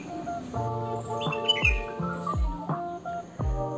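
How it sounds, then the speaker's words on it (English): A bird on the CFTRI campus sings clear whistled notes and falling chirps in repeated phrases. The calls are close and prominent, and no one talks over them. "I'm going to show you how beautifully this bird is chirping"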